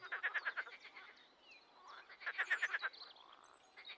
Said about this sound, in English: the frogs gathered under a large lily pad, croaking under the moonlight